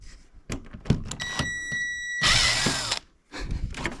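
A power drill bores a screw hole during the installation of a Frigidaire 6000 BTU window air conditioner, a close high whine with a short intense burst mid-clip among handling knocks.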